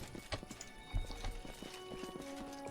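Horses in the video game Kingmaker, with brief clip-clop hoofbeats and short snorting whinnies, fairly close and quiet over a faint musical tone.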